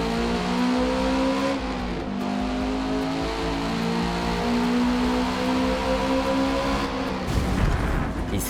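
Newer engine sound of a Mustang GT350R in the Forza Motorsport video game: a loud, close droning rev climbs through gear shifts, then ends in a rough burst of noise.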